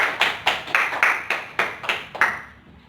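A few students clapping in a classroom, about nine sharp, evenly spaced claps that fade out near the end, close and moderately loud.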